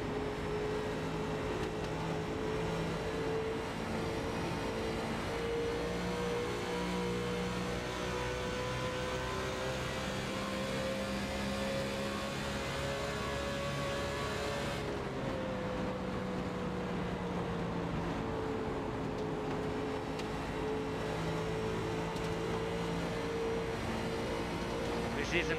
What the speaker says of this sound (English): He is in a Chevy SS, so you can hear the different exhaust tones.